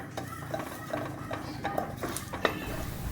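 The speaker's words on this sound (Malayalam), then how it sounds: "ഇനി നമുക്ക് ഇളക്കി ശരിയാക്കിയെടുക്കാം" A spoon stirs melted sugar in a metal pan for banana pudding, giving soft, irregular scrapes and light clinks against the pan at a steady pace, fairly close and quiet, with no talk.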